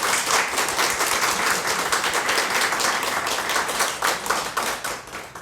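Church congregation applauding in encouragement during a Sunday service, many hands clapping in a dense, loud, continuous burst that tapers slightly toward the end, with no talking over it.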